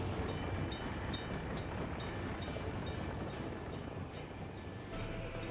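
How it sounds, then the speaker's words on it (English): Train idling at a signal in the Workers and Resources city-building game, a steady rumbling rail noise with faint clicks and a brief high tone near the end, moderately quiet and free of talk. "A train is waiting too long for the green light."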